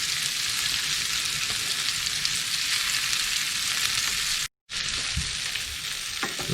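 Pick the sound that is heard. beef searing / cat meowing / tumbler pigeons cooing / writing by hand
beef searing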